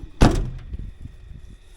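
A compartment door on an old auction pickup truck opens with a sharp latch clack, followed by quieter rattling and knocking from the door and bed, no voices.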